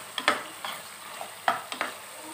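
Ginger, garlic, onion and tomato cooking in oil in a pan, a soft sizzle broken by a few sharp spoon scrapes and taps in quick succession.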